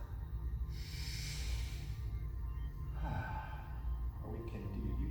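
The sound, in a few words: breathing in through the nose, out through the mouth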